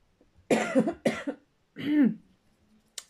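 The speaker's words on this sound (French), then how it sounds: "Je vais tousser beaucoup" Three harsh coughs close to the microphone, two quick ones followed by a longer, rougher one after a short pause, in an otherwise quiet room.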